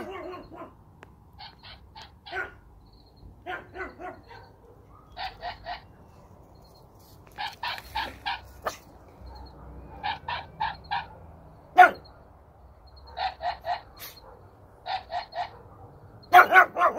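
A pug barks in short, sharp bursts, single and in quick clusters of two to four, separated by silent pauses and growing louder toward the end.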